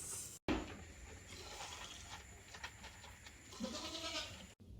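Goats on a farm where they are milked bleat faintly in the distance, a couple of wavering calls over steady outdoor background noise with some mechanical rattling.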